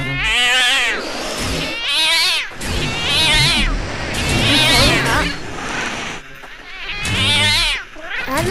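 Repeated loud cat meows and caterwauling from a video game, several drawn-out yowls in a row with brief gaps between them, up close with no talk over them.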